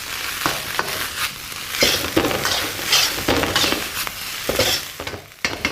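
Spring onion stems sizzle and crackle in hot oil in a wok for Fujian fried rice, a steady close frying hiss with intermittent stirring clinks and scrapes throughout.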